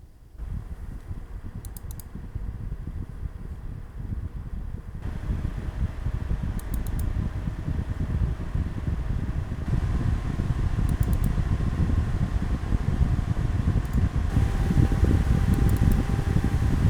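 Graphics card fans on an MSI RTX 4080 Super running at 100%, a steady broadband whoosh that swells slightly louder over time, with faint intermittent high clicks over the airflow.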